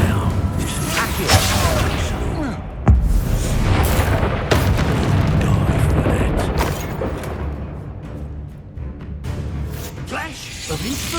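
Explosive spell effects in the Hogwarts Legacy video game, a run of loud, overlapping booms and bursts over a dense, roaring battle mix lasting throughout.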